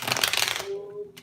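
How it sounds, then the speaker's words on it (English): A deck of tarot cards is shuffled in a quick, close riffle of crisp papery rustles lasting about half a second, followed by a brief tonal hum. "So I cleared the deck out. Now I'm shuffling it for you, Aries."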